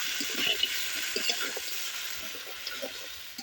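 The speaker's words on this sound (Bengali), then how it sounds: "এখন আমি সবজিগুলোর মধ্যে খুব অল্প একটু জল দিয়ে দেব" A little water poured into a pan of vegetables, spices and fried lentil bori for Bengali shukto, a steady soft hiss and sizzle of water meeting the hot pan, with no talk.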